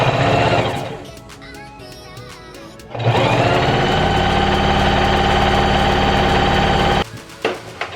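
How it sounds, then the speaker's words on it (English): A sewing machine stitches channels into a tulle tutu for ribbon trim, starting with a loud steady mechanical whir, slowing to a lighter clatter, then running fast and loud again before stopping with a few clicks. "Now we are done sewing the channels for the purple."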